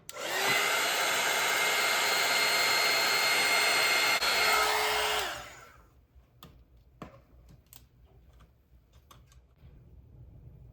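Hair dryer blowing steadily on a watercolor seascape painting, a loud continuous whoosh for about five seconds before switching off, followed by quieter faint clicks and handling sounds.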